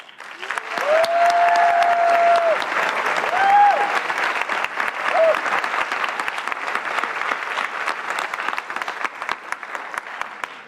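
Sustained audience applause at the UWC-USA class of 2023 graduation ceremony, a dense wash of clapping lasting the whole stretch, with brief tonal whistles or cheers rising above it early on.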